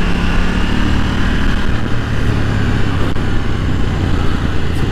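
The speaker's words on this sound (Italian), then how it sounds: "Sound dello scarico molto bello, scarico originale, però devo dire che fa un bel rumore" A KTM Duke 790 motorcycle on its original exhaust runs with a loud, continuous engine drone under steady wind rush, with no one talking.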